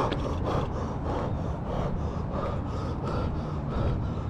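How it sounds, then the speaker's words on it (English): Heavy, rhythmic panting from a rider out of breath on an Etwow Mosquito 500w electric scooter moving fast outdoors, close breaths repeating about twice a second over a steady rolling hum. "Oh, I'm actually running out of breath."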